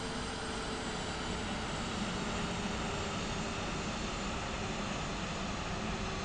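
Steady, loud aircraft engine roar from a single-engine climb in a FlightFactor A320 flight simulator, a continuous broadband drone holding level throughout with no talk.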